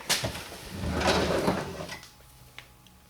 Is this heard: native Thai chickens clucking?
no